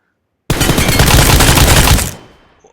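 An M4 rifle in PUBG unloads a burst of rapid gunfire, a loud dense rattle of shots lasting over a second before cutting off into a short decaying tail, with no voices.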